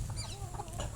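Chickens cluck on a desi poultry farm in Haldwani, Uttarakhand, with Black Australorp hens among them; several soft, overlapping clucks come through, fairly close and steady, over low background hum with no talking.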